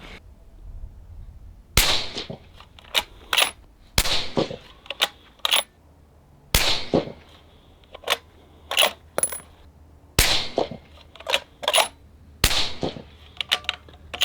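A string of rifle shots from a PRS long range rifle at an outdoor range, loud sharp cracks spaced a few seconds apart, with quieter clicks and handling sounds between them.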